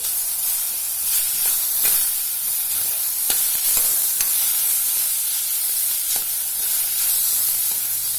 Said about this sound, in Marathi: यामध्येच मी टोमॅटो थोडे नारम होईपर्यंत भाजून घेते